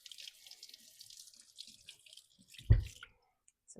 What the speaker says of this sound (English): So give it a wash